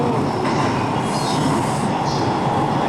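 A Sunrise sleeper train out of Tokyo rolls along with a loud, steady rumble, wheels squealing faintly at times through the continuous rail noise, with no voices.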